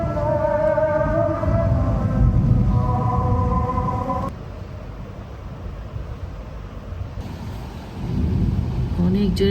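Thunder rumbles through a rainstorm, a broad low roar under steady rain hiss, with voices and tonal noise over the first seconds and the storm swelling again near the end.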